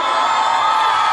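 A festival concert crowd in Hermosillo, Sonora shouts and cheers in a loud, sustained roar, with no single voice standing out.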